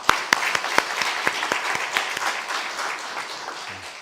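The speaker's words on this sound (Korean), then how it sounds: "격려의 박수 해드리겠습니다." A church congregation applauds during a pastor's installation worship service: dense, steady clapping with a few sharp claps standing out early, gradually thinning and softening toward the end.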